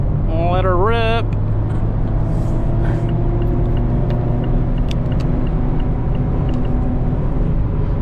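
A 2024 Mazda MX-5 RF accelerating on the highway at about 70 mph, its engine and road rumble steady and close, with a brief voice at the start.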